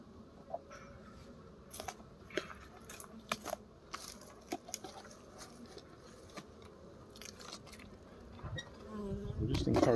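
Honey bees buzz around an open hive during beekeeping, a dense, steady drone with darting bees passing close, and a louder low rumble building at the end; no one speaks.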